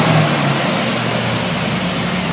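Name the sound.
1963 Impala SS engine idling with Edelbrock carburetor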